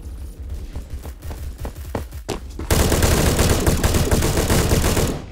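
Semi-automatic gunfire in the Phantom Forces shooter game: a run of sharp, separate shots, then from midway a dense, loud and continuous barrage of rapid fire that lasts to the end.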